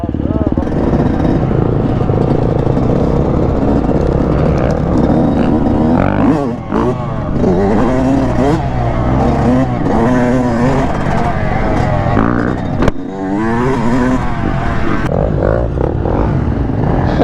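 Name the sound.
KTM, Husqvarna and Yamaha dirt bikes riding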